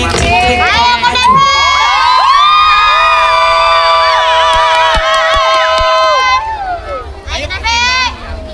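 Children shout and a crowd cheers loudly at a cultural festival competition, a sustained dense wall of high excited voices that fades out, then a short second burst of shouting near the end.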